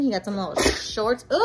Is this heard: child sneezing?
yes